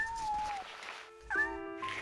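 A tiny orphaned kitten in the Shenmue video game gives two thin, high meows separated by a brief pause, with soft game ambience and a faint voice underneath.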